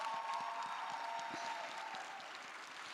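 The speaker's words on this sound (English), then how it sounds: "I want a round of applause for the family members of the cast" An audience applauds the cast's family members at a panel on race in modern America, a steady, even patter of many hands that eases slightly toward the end.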